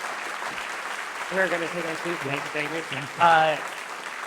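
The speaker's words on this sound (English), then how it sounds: "can you all please join me in doing a big round of applause?" Applause from a lecture audience runs steadily in the background while a voice talks over it near the end.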